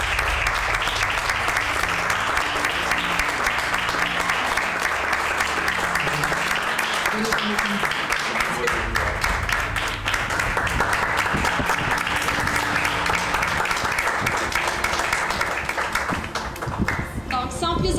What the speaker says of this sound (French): Je crois qu'ils méritent tous une grande main d'applaudissements